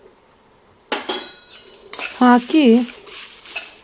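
Cumin, black pepper and poppy seeds dry-roasting in a pan for bisi bele bath powder, stirred with loud metal utensil clatter and scraping against the pan, and a short spoken word partway through.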